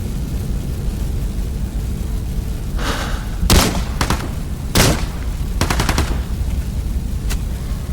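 Gunfire in the video game Into the Radius 2: several sharp shots crack out over a steady ambient hum, including a few single reports and a short rapid burst.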